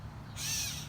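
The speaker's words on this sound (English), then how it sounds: "That bird is really upset." An agitated bird calls in a garden with a single hoarse, hissing screech lasting about half a second, fairly close over a low background rumble.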